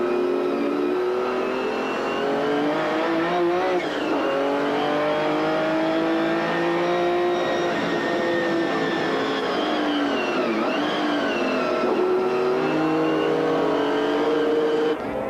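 McLaren F1 GTR GT race cars screaming around the Paul Ricard circuit in 1995, a continuous loud high-revving engine wail with shifting pitch as cars race past, sustained throughout with no pauses.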